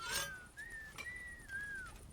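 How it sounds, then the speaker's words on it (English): A single person whistling a gliding tune in Kingdom Come: Deliverance II, a faint, clear melodic line with a few rising and falling notes over quiet background, no talking. "Who else whistling? You're throwing off my whole tune."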